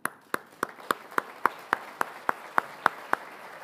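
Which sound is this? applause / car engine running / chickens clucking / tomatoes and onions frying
applause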